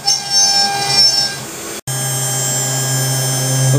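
Laguna CNC router cutting round holes in wood, a steady high-pitched machining whine with a dust collector droning beneath, broken by one brief silent gap midway before the cutting noise resumes at a constant level, close and loud.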